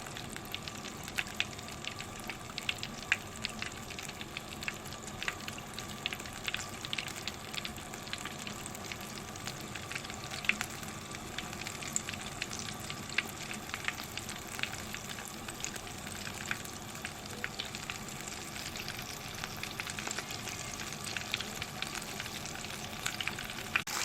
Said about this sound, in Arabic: لازم يكون كميه الزيت مغطيه الفرخه كويس جدا عشان تستوي لك من كل الجوانب